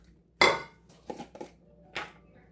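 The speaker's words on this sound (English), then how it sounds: "now I'm going to mix up my mayonnaise sauce." Mayonnaise sauce for a Fritos corn salad being mixed in a bowl: a sharp utensil clatter, then a few lighter scraping and clinking strokes, close and sparse.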